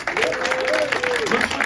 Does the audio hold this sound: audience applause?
yes